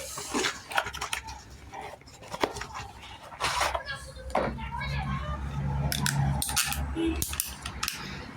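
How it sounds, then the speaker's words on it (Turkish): PPRC pipe-cutting shears working through 42 mm plastic plumbing pipe: a string of crunching squeezes and snips in uneven bursts, close by, partly under someone talking, followed by a steady low hum. "Şimdi de şu boruyu kesiyorum bununla."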